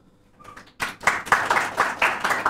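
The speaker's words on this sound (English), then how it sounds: "A big round of applause, everyone." Audience applause for film cast members on a Bollywood talk show, starting with a few scattered claps, then swelling into steady rhythmic clapping from a crowd, fairly close and unaccompanied by speech.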